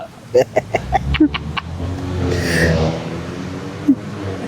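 Car passing by outside, its engine noise swelling and fading behind closer sharp clucking sounds, fairly loud and mixed with nearby room noise.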